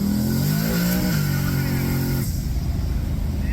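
A Chevrolet Nova drag car accelerates hard up close, its engine note climbing in pitch through a gear change before the roar broadens and settles.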